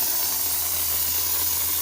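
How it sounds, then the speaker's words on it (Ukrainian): An air compressor at a plastering job runs with a steady broadband hiss and a low constant hum, close and unbroken, with no talk. "компресор включився"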